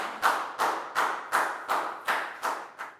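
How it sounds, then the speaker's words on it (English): A small group claps in a classroom, seven evenly spaced sharp bursts of hand claps in a steady rhythm, fairly faint, with no talking. "Big round of applause for Proud"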